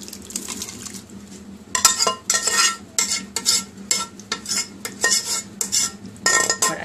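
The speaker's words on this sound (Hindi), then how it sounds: "अब ये तमाम लोबिया मैं इसमें ऐड कर रही हूँ" Boiled red beans are tipped into a pot of oily masala and stirred, bringing repeated close metal spoon scrapes and clinks against the pot over a soft wet sizzle, without speech.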